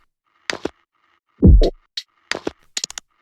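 Beat elements play in a sparse pattern: short bright hi-hat ticks arrive among scattered percussive hits and one deep thumping kick, crisp and close with silent gaps between.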